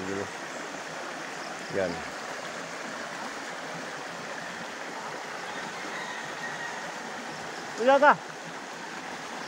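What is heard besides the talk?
flowing stream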